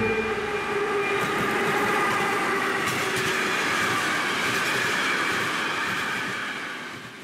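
An early-morning train pulls away in a steady, continuous rumble of rolling wheels, with faint wheel squeal and clatter. The sound stays loud and close throughout, then begins to fade slightly at the very end.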